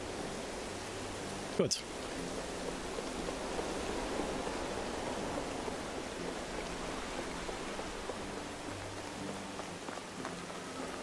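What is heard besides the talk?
rain in the video game Medieval Dynasty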